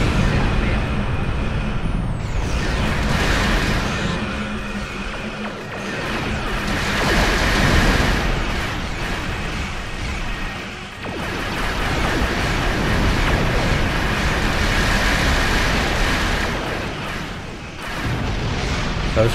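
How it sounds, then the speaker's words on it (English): Crystalline torpedoes fire and explode in a space battle in Star Trek Online, a dense run of loud booming blasts and crashes that rise and fall in waves across the whole stretch, with no talk over them. "I love those crystalline torpedoes."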